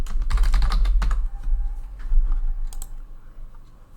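Computer keyboard keys clatter in a quick burst of close typing during the first second, then a few scattered keystrokes follow over a low background hum, with no voices.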